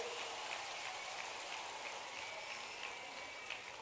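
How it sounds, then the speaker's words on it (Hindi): Audience applause welcoming Shivraj Singh Chouhan at an outdoor public rally in Manasa, Neemuch district, heard as a steady, dense patter of many hands clapping, faint and distant, with no talking over it. "जोरदार तालियों के साथ स्वागत करें।"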